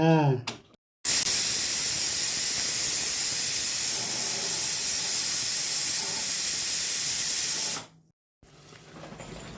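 A pressure cooker's steam whistle blasts as a loud, steady hiss lasting several seconds, then cuts off abruptly, with a brief voice before it.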